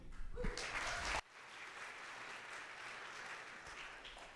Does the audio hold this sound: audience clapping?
yes